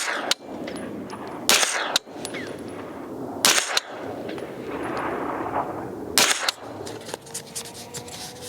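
A SAINT Victor 9mm PCC rifle fires four sharp, separated shots at an outdoor range while its EOTech XPS optic is zeroed, each crack loud and close, with a low rumble of wind or movement between them.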